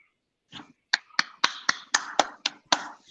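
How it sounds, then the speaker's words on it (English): A few people clap after a virtual research seminar talk, about nine sharp, separate claps in an irregular rhythm, close and clear against silence. "You can hear people clapping."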